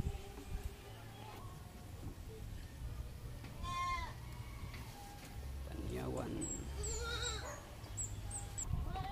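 Pet goat bleating a few times, wavering cries at moderate distance, with someone talking quietly over the low background.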